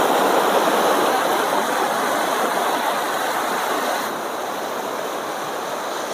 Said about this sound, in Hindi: भाव देखिए जो पानी टकरा रहा है ना उसकी जो आवाज़ है ना एक बार आप वो सुनिए